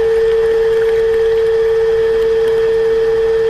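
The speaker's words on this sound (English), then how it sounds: "by letting this foam pump kind of stretch its legs with some nice, clean, warm water" A Darley FoamPro foam piston pump runs steadily while flushing with clean warm water, giving a loud, continuous mechanical hum with a strong fixed tone and no pause over the whole stretch.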